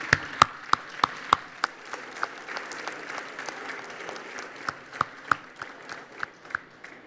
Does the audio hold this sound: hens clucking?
no